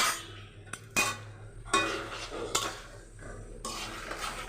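Ginger and spices being stir-fried in a pan for a potato and pointed gourd curry, with a soft underlying sizzle broken by several sharp clinks and scrapes of a utensil against the pan, no talk.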